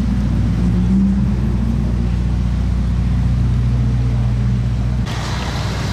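A purple Ferrari SF90 supercar sends out a steady, loud low engine rumble that holds close and constant, then shifts in tone near the end, with no voices.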